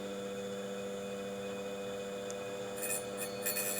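STAYSHARP PRO tungsten grinder motor running, a steady electric hum with a constant tonal whine, faint and even, with a few brief higher scrapes near the end.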